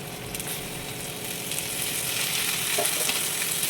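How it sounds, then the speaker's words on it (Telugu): Ivy gourds tumble into a hot pan of oil and ginger-garlic paste for a curry, setting off a loud, steady sizzle and hiss that runs the whole time with no voices over it. "ఇప్పుడు దొండకాయలు వేస్తున్నానండి."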